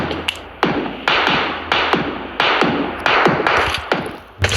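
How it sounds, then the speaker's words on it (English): Sharp cracks and thuds of bullets striking walls, loud and close, landing in irregular single hits about every half second over several seconds, with no voices. "Bullets flying, knocking on walls."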